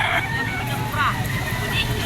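A Sweater stag gamecock crows and clucks amid a busy auction market, short rooster calls rising over background chatter.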